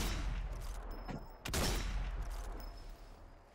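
A single loud gunshot cracks out from close by over a steady low rumble, followed by a fading echo tail, with no talking.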